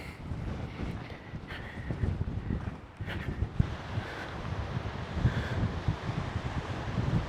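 Strong wind blowing at a seaside campsite on the Giens peninsula, a low rumbling buffet across the microphone with gusty surges and faint rustling, continuous and close.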